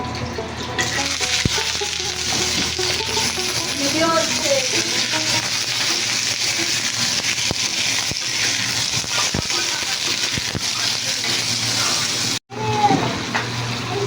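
A steady, loud sizzle of eggplant frying in hot oil continues throughout, with a voice speaking faintly underneath.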